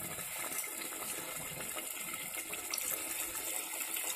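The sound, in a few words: water poured into mutton masala in pressure cooker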